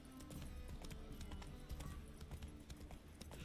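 Hoofbeats of Roach, Geralt's horse in The Witcher 3: Wild Hunt, clip-clopping in a quick steady rhythm, faint beneath game music and ambience.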